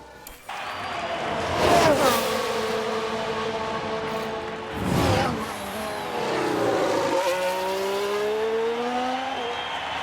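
Formula 1 cars from the F1 Manager 22 racing game roar past loudly, engines climbing in pitch with a whoosh of a pass midway, then more cars accelerating with rising harmonic whine.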